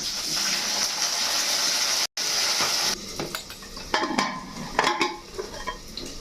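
Tempering spices, dried red chili and cumin, go into hot oil in a pan for dal, giving a steady close hiss and sizzle with a brief cut-off, then clattering utensil scrapes and knocks against the pan.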